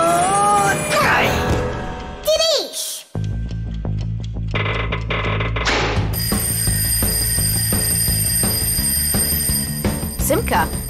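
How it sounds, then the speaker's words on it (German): A cartoon alarm clock rings in the German-language children's animated series The Fixies, a bright repeated bell-like ringing that starts partway through and continues steadily to the end, layered over music and voices speaking. "ich glaube, ich höre meinen Wecker klingeln"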